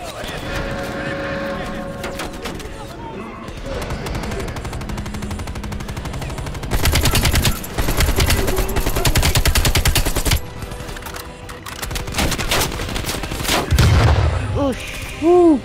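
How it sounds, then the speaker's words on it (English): Gunfire in the video game Call of Duty Black Ops Cold War includes AK-47 fire. Loud, dense automatic bursts and rapid shots go on almost continuously, with booms and battle noise in the mix and people talking throughout. "AK-47."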